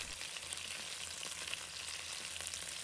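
Chicken wings pan-fry in oil until golden on both sides, giving a soft, even, unbroken sizzle that stays fairly faint throughout with no speech.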